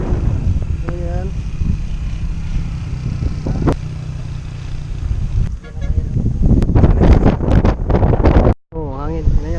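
Wind gusts steadily across a high mountain road along Daang Kalikasan, rumbling loud and close into the microphone beside a motorcycle, with voices talking over it and a brief dropout near the end.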